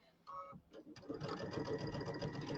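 A home sewing machine stitches fabric, a steady mechanical whirr that starts after a few brief taps and runs continuously at close range.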